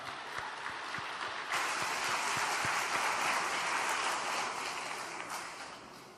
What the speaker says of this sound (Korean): 환영의 박수로 모시도록 하겠습니다.